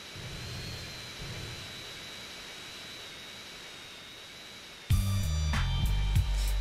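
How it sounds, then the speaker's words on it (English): Jet plane in GTA San Andreas guided toward a hangar, its engine a steady roaring hiss with a thin whine that fades slightly, then abruptly cut off by loud game music and tones near the end. "guide the plane to the hangar"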